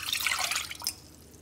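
Warm liquid agar jelly pours into a mold in a brief close splashing trickle that tapers off quickly.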